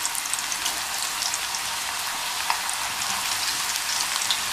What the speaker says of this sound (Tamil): ஒவ்வொரு சிப்ஸாக நம்ம வந்து இப்படி போட்டு எடுத்துடலாம்.